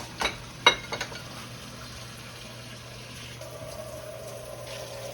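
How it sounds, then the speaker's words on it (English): After a few clinks of a soup pot, hot water pours steadily into it with a continuous gushing rush, heard up close. "we're gonna add some hot water to this and some chicken base"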